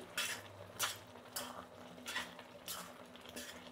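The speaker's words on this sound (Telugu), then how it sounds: "చింతపండు అంతా వేసేసి కలుపుతున్నాం కదండి, మళ్ళీ అప్పుడప్పుడు ఇలా కలుపుకుంటూ ఉండాలండి" Tamarind pickle stirred in a pan, with four or five separate scraping, clinking strokes of a metal spoon against the pan at an unhurried pace, quiet and close with no voices.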